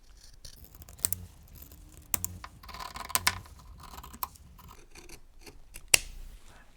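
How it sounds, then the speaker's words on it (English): Fabric shears snip through quilting fabric for half square triangles, a few sharp isolated cuts spaced across quiet moments, close and crisp. "I'm going to just use my shears."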